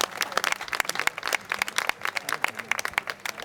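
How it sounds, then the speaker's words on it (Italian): An outdoor audience in a town square in Jesolo claps for Rino Toffoli, a lively scattered round of applause close by, with a voice heard briefly amid it. "Io farei un applauso per lui veramente perché se lo merita."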